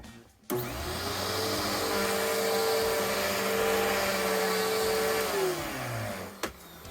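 A Riccar Vibrance upright vacuum cleaner, just fitted with a new belt, starts with a sharp click, runs with a steady loud whine and drone for several seconds, then winds down, followed by a click.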